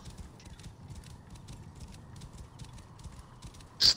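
Horse hooves clip-clopping at a galloping pace in the video game Assassin's Creed Origins, a steady rhythmic beat repeating under quiet game background, ending with a sharper louder burst of sound.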